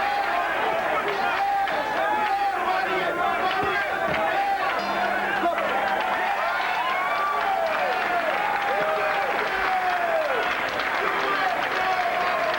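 Boxing crowd at a 1994 USA vs Cuba amateur junior flyweight bout roaring and applauding in a steady, loud outburst, with the ringside commentator's voice running over the din.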